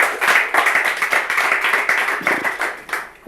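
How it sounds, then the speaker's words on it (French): An audience on a television talk show bursts into brisk, close clapping that continues steadily, a crisp patter of hands with slight surges. "On va applaudir ces différentes réactions."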